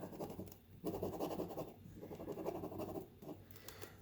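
A Scotty peeler scrapes silver adhesive off a surface in close, gritty, scratching strokes, three bursts separated by short pauses.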